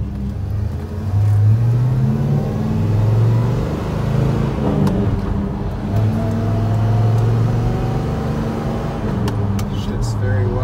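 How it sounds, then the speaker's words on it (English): A 1970 Oldsmobile Cutlass Rallye 350 engine rumbling steadily from inside the cabin, with gentle rises in revs as it drives along, under a constant low road drone. "Take it for a spin. I absolutely love driving this car."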